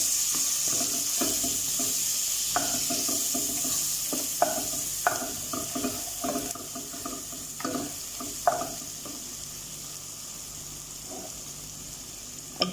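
Spices with chili powder fry in a pan as a spoon stirs them, giving a quiet steady sizzle broken by intermittent scraping clicks.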